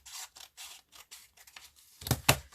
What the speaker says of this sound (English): trim a bit with the scissors